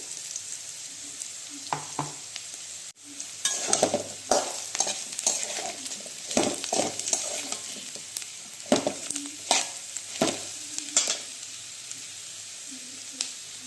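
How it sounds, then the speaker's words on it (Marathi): Potatoes and ground masala paste frying in a pan, a steady sizzle broken by scraping, stirring strokes and clatter, close and moderately loud, with brief bits of voice. "जरा बटाटा टाकून ते वाटण केलेलं ते टाकूया"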